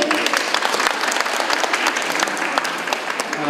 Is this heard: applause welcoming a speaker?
yes